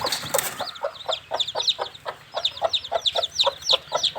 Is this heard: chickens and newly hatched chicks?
yes